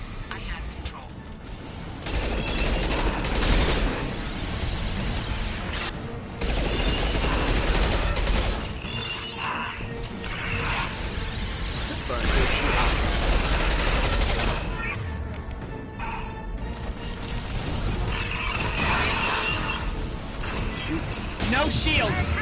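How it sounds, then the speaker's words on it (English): Anti-ship batteries fire at the Collector vessel during a Mass Effect 2 battle: dense, sustained rapid gunfire and mechanical clatter, loud and continuous with brief lulls, with voices mixed in. "Firing anti-ship batteries at collector vessel."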